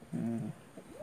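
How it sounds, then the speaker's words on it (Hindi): A pigeon chick coos alone in a short burst of soft, low, warbling notes, followed by a rising call, fairly close and clear. "ये कबूतर का चूचा है"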